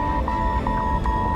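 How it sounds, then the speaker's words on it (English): A steady, loud cockpit alarm tone warns of autopilot shutdown aboard Aeroflot Flight 593, pulsing with repeating beeps over a dense roar of engine and cabin noise. "an alarm begins to sound. It signals the complete shutdown of the autopilot."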